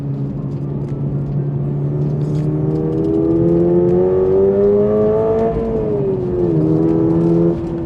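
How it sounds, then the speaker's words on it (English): A turbocharged Gen 2 Subaru BRZ engine drones from inside the cabin, its prototype sports exhaust note climbing and dipping in pitch as the revs change, steady and fairly loud. "prototype SME exhaust, which actually sounds pretty good, and not too loud at all from in the cabin"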